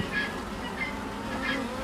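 Honeybees buzz around a hive in an apiary, a steady close drone with a few brighter swells as individual bees pass near.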